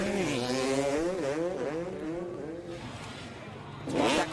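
Several dirt bike engines rev together at a race start gate, their pitches wavering up and down in overlapping whines, close and loud, with a louder burst near the end.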